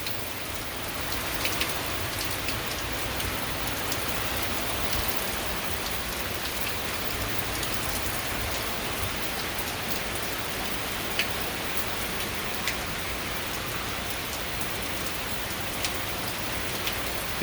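Heavy rain pours steadily across southeast Virginia under a dull gray sky, a dense, even hiss of drops hitting surfaces with occasional louder splats, continuous and close with no talking.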